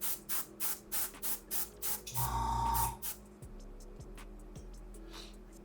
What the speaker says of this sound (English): So do a big spray on my glove, make sure I cleared out any potential flaws.